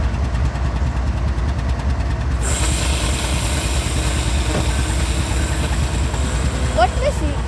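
FEC freight locomotives in Bowden Yard rail yard, a steady low diesel rumble and idle with rail-yard clatter, close and continuous, with faint squeals near the end.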